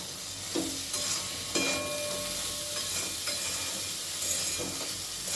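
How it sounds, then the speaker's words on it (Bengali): Salted ridge gourd and prawns are stirred in a hot pan, a steady close sizzle broken by several sharper scraping strokes of the spoon, with no voices. "লবণটাকেও আর একটু ভালো করে নাড়াচাড়া করে দেবো"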